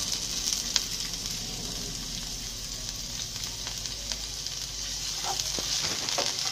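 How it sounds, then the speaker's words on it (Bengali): Chopped onion frying in a little oil in a pan, a low steady sizzle with a few scattered crackles and light stirring clicks, fairly quiet and close, no voices. "এবার আমি তেল দিয়ে নিচ্ছি, সামান্য তেল এবং পেঁয়াজ কুচি দিতে হবে।"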